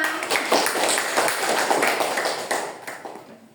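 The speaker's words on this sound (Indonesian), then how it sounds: "Tepuk tangan buat kita semua." Classroom applause from a group of students at a teacher-training role-play lesson, a dense patter of clapping holding steady for a few seconds before thinning at the end.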